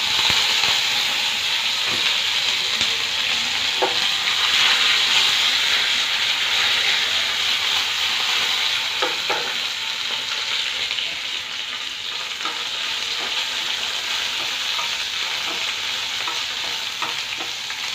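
Curry leaves sizzle in a pan of hot oil, a loud continuous hiss and crackle with scattered small pops, steady for the whole stretch without speech.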